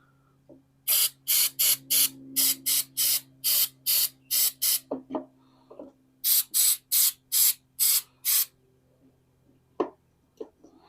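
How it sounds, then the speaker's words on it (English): Carburetor and choke cleaner aerosol sprayed onto a junked lawn mower in a series of short, sharp hissing bursts, about fourteen in two groups, with faint clicks and knocks between them and a low hum underneath. "handy dandy carbon choke cleaner"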